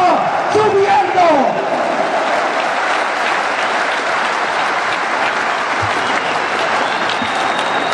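Sustained applause from a large standing audience of union workers at a May Day political rally in Indonesia, steady and dense throughout, with a brief raised voice near the start.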